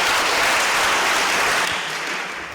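A church congregation claps and cheers during a Sunday service, a dense, loud wash of applause that holds steady and then gradually thins toward the end.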